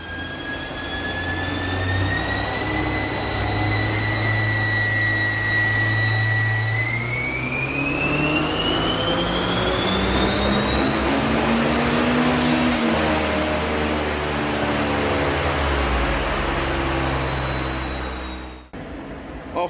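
A turbocharged Mazda MX-5 Miata NC engine on a high-boost run holds a loud, steady drone that climbs in pitch, then cuts off abruptly near the end, with no voices.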